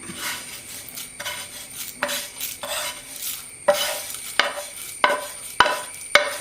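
A metal spoon stirs roasted coconut in a cooking pot for an Onam chena erissery. It makes a series of distinct clinks and scrapes against the pot that grow sharper and more regular toward the end, with faint sizzling between strokes.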